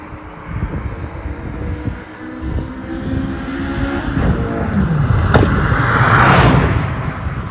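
Legends race car engine running under load, its note sagging and dropping away partway through as a small coil pack connection lets go, with a brief sharp crackle before the engine cuts out; loud and close, no talking.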